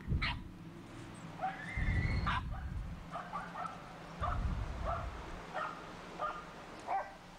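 Dogs bark and yip repeatedly in short bursts amid scuffling play noise, fairly close, with excited whines between barks.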